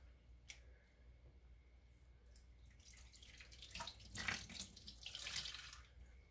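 Wet dyed fiber squeezed out over a pan of water, giving soft splashing and trickling water with drips, building in the second half, close and moderately quiet with no talk.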